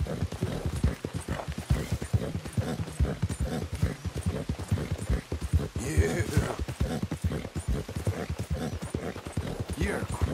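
Horse hooves clip-clop steadily in Red Dead Redemption 2, a close, even rhythm of hoofbeats on hard ground, with someone talking over it.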